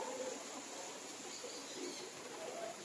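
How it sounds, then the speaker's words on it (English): Birds in a bird park in Taif, soft pigeon- or dove-like cooing heard faintly at a distance over a steady hiss of ambient background noise. "Here you will come across a variety of rather wild birds, bigger in sizes."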